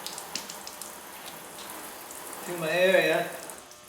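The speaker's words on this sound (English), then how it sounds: "I'm just adding a little bit of water here" Water poured onto the painted body of a 2000 Chevrolet Silverado 1500 Z71 for wet sanding with 3000-grit paper, a brief close splash and trickle near the end, following a stretch of quiet talk.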